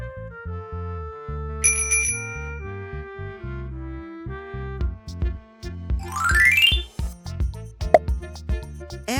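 A bicycle bell gives a brief, bright ring over cheerful background music, standing out clearly for about half a second before other effects follow.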